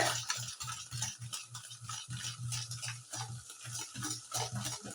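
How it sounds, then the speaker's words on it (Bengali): Eggs for a Christmas cake batter are beaten hard in a bowl, giving rapid, rhythmic clicking strokes that stay close and steady throughout with no speech. "এবার আমি ফেটিয়ে নিই ভালো করে"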